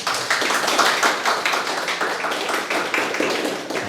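A church congregation applauds at a baptism service, a dense, fairly loud patter of many hands clapping continuously and evenly from start to finish.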